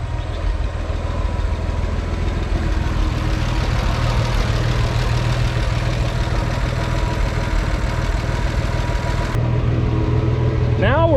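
A Farmall 460 tractor engine runs loud and close with a steady low, throbbing idle that holds throughout, and a brief rising whine comes in near the end.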